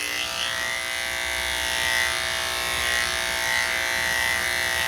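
Electric dog clippers fitted with a 16 guard run steadily and close by as they trim a small curly-coated dog, a constant high-pitched buzz with slight shifts in loudness.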